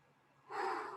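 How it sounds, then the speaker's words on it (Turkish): A deep breath during an online exercise session, starting faint and swelling into a strong, close exhale that holds for about half a second with no talking. "derin derin nefes alıp veriyoruz"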